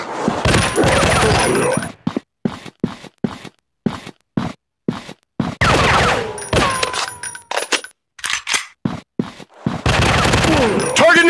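Gunfire in the video game Zombie Fire Strike, loud bursts of automatic fire alternating with rapid single shots and short pauses, with game voice callouts mixed in.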